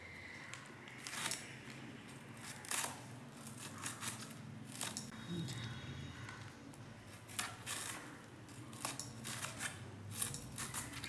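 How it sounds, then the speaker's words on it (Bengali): Bitter gourd (karela) is being cut into pieces. Soft, crisp snips and cuts come close by at irregular intervals over a low, steady background hush. "রসা করব, তাই করলাটাও কেটে নিচ্ছি।"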